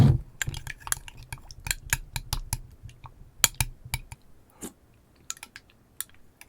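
A spoon stirs soup in a pot, giving close, irregular clinks and taps against the metal, with some sharper clicks spread over several seconds.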